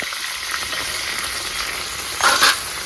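Eggplant seasoned with salt and turmeric fries in hot oil with a steady, close sizzle that flares briefly louder near the end.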